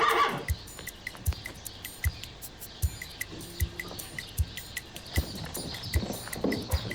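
Steady hoof clops from two horses in a loose rhythm over rustling background noise, with a faint whinny partway through.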